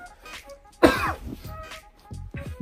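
A man coughs several times at close range, with one sharp, loud hack followed by a few smaller throaty coughs and some throat clearing.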